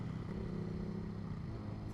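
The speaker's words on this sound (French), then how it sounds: "Oh là là ce bordel qu'elle fait cette MT" A Yamaha MT motorcycle engine drones steadily while riding, a loud continuous low rumble with a slight dip in pitch partway through, close and unbroken.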